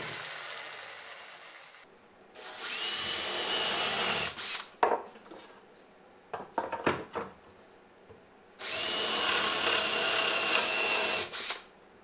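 A jigsaw cuts rough pieces from a wooden side plate in two long loud buzzing runs, separated by a stretch of short choppy bursts and clatter.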